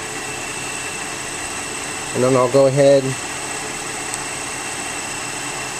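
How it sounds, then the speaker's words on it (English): A car engine idles with a steady low hum throughout, while someone briefly speaks over it, mid-clip, near a fuse check. "And right now the engine's running"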